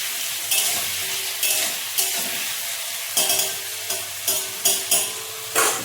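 Food sizzles and fries steadily in a pan, with repeated stirring scrapes breaking the continuous loud crackle at intervals, no voices present.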